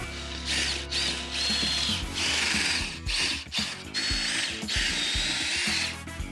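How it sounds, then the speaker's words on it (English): A ratcheting screwdriver or drill drives screws back in while mounting a Yarbo GPS unit, loud close bursts of clicking, whirring mechanism separated by short pauses, with no talking. "And just push that in there. Screw this back on."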